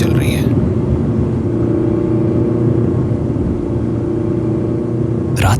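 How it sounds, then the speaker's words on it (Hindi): A car speeding at full speed along a deserted night road as a horror audio-story effect, a loud continuous engine rumble and road roar held steady throughout, with brief higher swooshes at the start and end. "उसकी गाड़ी सुनसान सड़क पर फुल स्पीड में हवाओं से बातें करते हुए चल रही है।"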